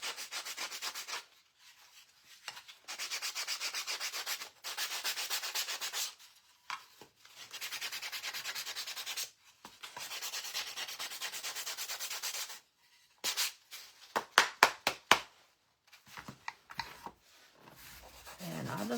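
Wood being sanded by hand with an 80 grit sandpaper sponge on a pumpkin patch door tag, heard as close, repeated rasping strokes in bursts separated by short pauses, followed by quicker, choppier rubs near the end.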